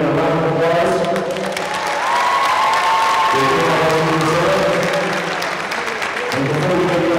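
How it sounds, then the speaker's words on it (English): Crowd applause and cheering fill a gym at a girls high school basketball game, a steady dense wash of clapping with voices and talk mixed in throughout. "Let's give our guys a wave and a round of applause."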